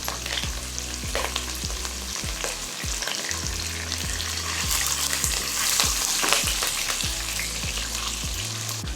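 Green chillies and curry leaves frying in oil for mango pulihora, a steady bubbling sizzle with occasional stirring scrapes, close and fairly loud, with no one speaking.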